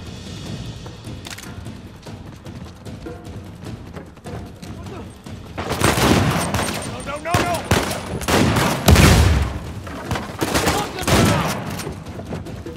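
Shotgun fire in the video game Uncharted 4, with several loud booming blasts clustered in the second half over a busy background of game noise.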